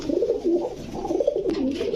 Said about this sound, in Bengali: সবগুলো কিন্তু একদম ধবধবা সাদা কবুতর